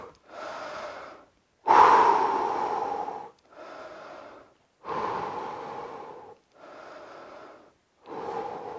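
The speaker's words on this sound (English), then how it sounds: "let's breathe now" After a home fat-loss workout, a person takes six deep, heavy breaths close to the mic, alternating long inhales and exhales with short silent gaps. The second breath is the loudest and roughest.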